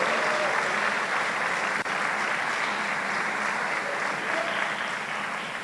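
A church congregation applauds during a Spanish-language sermon, a steady, even wash of many hands clapping at moderate volume, continuing unbroken with little voice above it.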